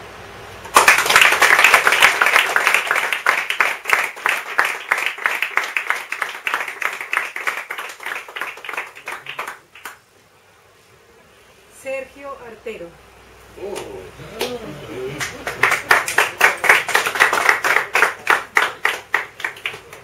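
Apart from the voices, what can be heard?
audience applause at poetry festival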